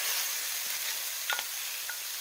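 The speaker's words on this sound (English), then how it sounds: "I'll continue to stir until the spinach and the kale has wilted" Spinach and baby kale, seasoned with a little basil and dried thyme, sizzle faintly in a hot pan as they are stirred, giving a soft steady hiss with a few light scraping clicks.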